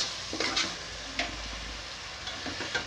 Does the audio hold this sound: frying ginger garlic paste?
yes